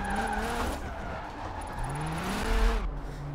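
Car drifting in Forza Horizon 4, steered with a Logitech G920 wheel during a Drift Club event: a continuous engine roar with sliding tire squeal, loud and close throughout, swelling near the end.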